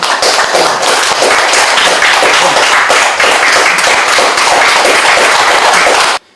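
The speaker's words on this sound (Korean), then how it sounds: "큰 박수로 환영해 주시기 바랍니다" A seminar audience at the National Assembly press association applauds to welcome a speaker: dense, steady clapping fills the room for about six seconds, then stops abruptly.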